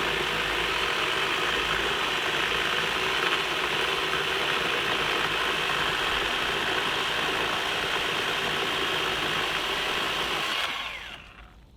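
A Milwaukee M12 Fuel Hatchet 6-inch battery chainsaw runs through a larger cut, a steady high-pitched motor and chain whine held for about ten seconds before it winds down and stops.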